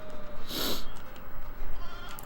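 Bo Peep's sheep in the Toy Story 2 video game lets out a single clear, fairly loud bleat over steady background game music.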